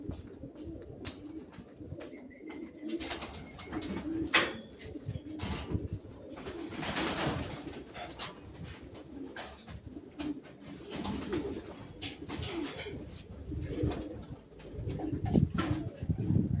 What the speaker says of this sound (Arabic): خلينا نفتح الحمام